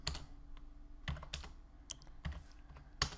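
Scattered keystrokes on a computer keyboard while code is entered, a handful of distinct close taps with uneven gaps in an otherwise quiet room.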